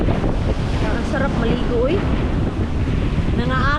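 Sea waves and wind on a beach in Mati City, a steady broadband wash of surf with wind buffeting the microphone, continuous and fairly loud, while someone speaks briefly over it.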